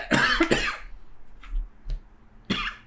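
A few sharp coughs, one strong pair at the start and another near the end, with quieter throat sounds between them in a quiet room.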